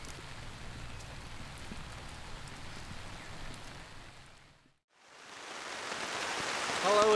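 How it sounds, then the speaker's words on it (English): Heavy rain drums steadily on a taut tarp, a dense close hiss that drops out briefly midway, then returns louder and building. "the rain is absolutely pelting down on this tarp"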